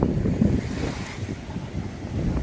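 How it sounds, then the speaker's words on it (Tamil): Sea waves washing onto a delta beach at Pudupattinam under strong wind, a constant roaring rush with heavy wind buffeting the microphone, loud and with no voices. "ஆனால் இன்னைக்கு காற்று கொஞ்சம் அதிகமாக இருக்கிறதுனால செம்ம அலையாக இருக்குது பாருங்கள்."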